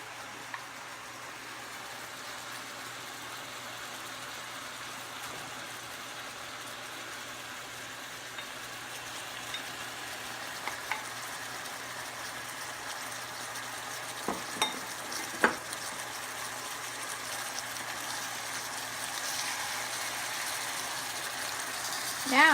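Onions sizzle and fry in a pan while being stirred, a low steady crackle with occasional scraping clicks, fairly faint and close.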